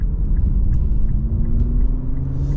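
A 2023 Infiniti Q50 AWD with a twin turbo V6 accelerates hard in sport mode at night, a loud steady engine rumble with a rising tone throughout, heard from inside the car.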